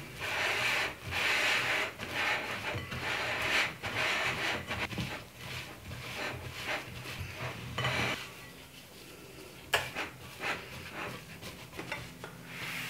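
Spatula scraping the bottom and sides of a bowl while mixing gluten-free date bar dough, a series of rubbing, scraping strokes that are loud at first and then quieter, close up with no talking.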